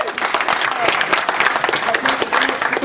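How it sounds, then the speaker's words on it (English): Applause from a press conference audience for fighter Nick Chapman at a UCMMA Showdown event, a steady dense roar of clapping lasting throughout, loud and close. "Give him a round of applause."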